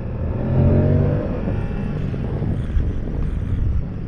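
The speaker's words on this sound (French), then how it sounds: "je viens de faire une petite accélération très brève" A Moto Guzzi Stelvio motorcycle engine gives a short, brief rev that swells and then settles back to a steady, close idle-like rumble.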